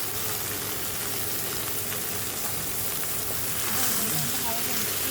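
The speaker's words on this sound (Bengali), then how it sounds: "এখন আমি এই তেলেতে এখন দিয়ে দেবো এই সয়াবড়িগুলো।" Soya chunks frying in hot oil in a village-style home kitchen, a steady dense sizzle and crackle throughout, fairly close and even, swelling slightly near the end.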